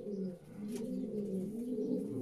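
Racing pigeons in a breeder's loft give a steady, low, rolling coo that carries on without a break, close by and fairly quiet, with no talking over it.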